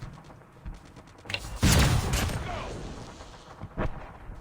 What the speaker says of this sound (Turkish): Böyle ee, savaş efekt sesi koymuşlar.